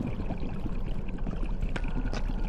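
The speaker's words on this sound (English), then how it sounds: "Oh, I could hear the water too." Steady flowing water in the Dark And Deep video game, a continuous broadband rush with faint gurgles, close and even throughout with no voices.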